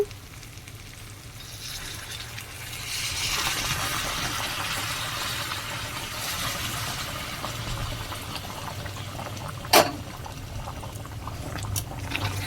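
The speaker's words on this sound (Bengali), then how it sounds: "এবার এর মধ্যে আমি ফুটন্ত জল দিয়ে দেবো" Boiling water poured into a pan of chicken curry with potatoes and chilli powder, a steady hissing sizzle of liquid hitting hot oil and spices that swells and holds, with a sharp clink near the end.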